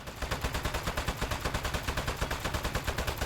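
Rapid automatic gunfire in the video game Desk Job, a steady machine-gun rhythm of evenly spaced loud bursts, about seven shots per second, continuous and alone.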